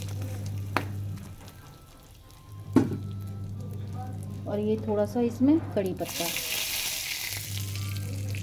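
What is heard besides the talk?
spices sizzling in hot oil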